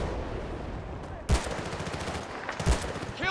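Machine gun fire in the video game Battlefield Bad Company 2, two sharp bursts of rapid rattling shots separated by a pause, loud against a low battlefield rumble.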